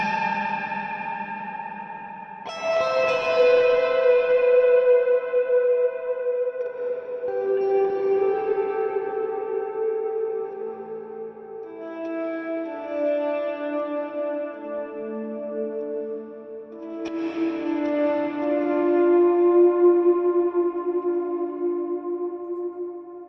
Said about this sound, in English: the next type of reverb. The preset is called Dream Verb